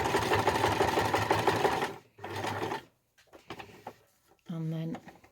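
A sewing machine stitches a dog lead in close, whirring bursts, one long run followed by two shorter ones separated by pauses, with a voice speaking quietly between them.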